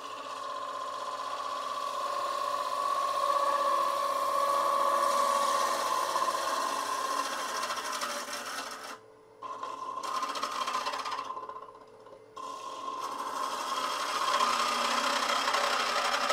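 Wood lathe spinning a cherry burl bowl while a bottom feeder tool cuts inside it, a steady whirring hum with a sustained tonal whine, broken by two brief gaps where the cut lifts off.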